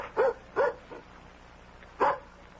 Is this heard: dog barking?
yes